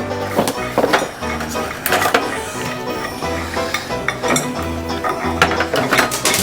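A ratchet with a 17 socket turns in repeated bursts of clicking pawl and metallic clinks, close up, in a motorcycle workshop.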